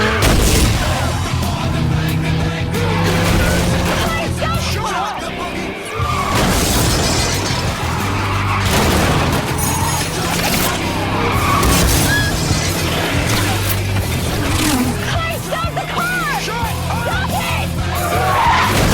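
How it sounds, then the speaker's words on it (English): A car revs its engine and smashes through a house under construction, with tire skids, crashing and shattering impacts, and booms piling up in loud, dense bursts across a long stretch. "In this minute, Sean revs his engine and drives through a house under construction"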